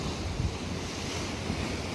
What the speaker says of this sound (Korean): 바위 위로 철썩철썩 밀어대는 파도